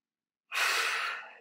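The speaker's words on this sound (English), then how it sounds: "So breathing in." One deep inhaled breath during a meditation while applying crystal roller-bottle oil, a close, airy rush that begins after a short silence and tapers off over about a second.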